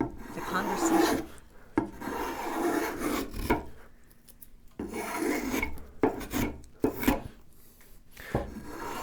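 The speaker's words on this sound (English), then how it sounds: "The most difficult thing about putting a chamfer on an inside curve like this is it's hard to keep the right angle." A hand rasp files a chamfer along an inside curve of a wooden piece, making close, gritty scraping strokes in repeated bursts separated by short pauses.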